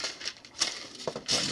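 Plastic bags crinkling and rustling as a JieStar P-51D Mustang model kit is unpacked, with brief crisp bursts of handling noise close by and no talk.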